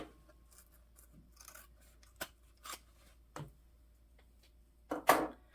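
Scissors snip through bag-making material in short, quiet, separate cuts, with a louder rasping cut near the end against a hushed room.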